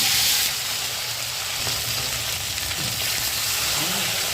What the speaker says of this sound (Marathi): वांगे टाकते याच्यामध्ये